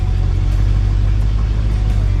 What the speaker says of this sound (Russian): Паккард. Это американский автомобиль.